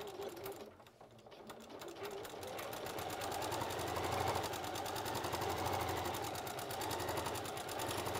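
A sewing machine runs steadily for several seconds on quilting and apron work, its fast even needle clatter building after a brief pause near the start and staying close and continuous, with faint talk in the background.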